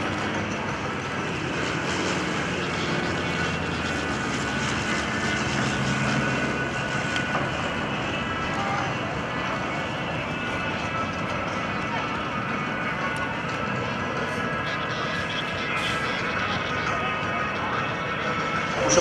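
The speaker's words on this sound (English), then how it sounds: "Touchdown." A Douglas A-1E Skyraider propeller aircraft landing at a Rhode Island airshow rehearsal: a sustained engine drone, fairly loud and steady for about twenty seconds, with a public-address voice talking over it.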